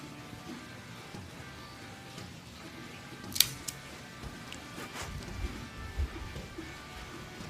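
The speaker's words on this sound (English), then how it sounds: "I am going to use the Cassetti multi-cutter V-cut." A cigar is cut with a Cassetti multi-cutter V-cut, heard as one crisp snip followed by a few faint clicks against a quiet, hissy room background.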